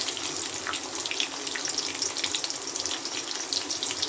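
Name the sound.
cumin seeds frying in oil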